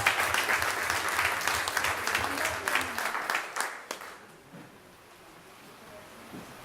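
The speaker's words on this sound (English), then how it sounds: "let's give a round of applause to yourselves for being here" Audience applause at a civic meeting, a moderate burst of many people clapping that tapers off and fades into quiet room tone after about four seconds.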